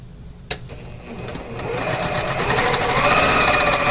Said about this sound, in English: you're going to sew 1/4 inch all the way around the outside